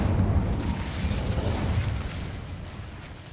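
Incendio, a fire spell cast in the Hogwarts Legacy video game, lands as a loud whooshing fiery burst that rumbles and fades over a few seconds.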